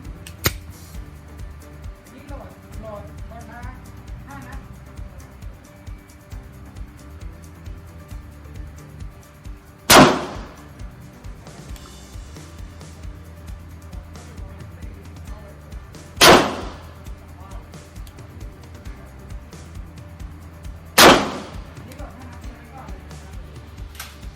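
Three sharp, loud pistol shots from a ZEV P320, spaced several seconds apart, ring out at a shooting range, with talk between them.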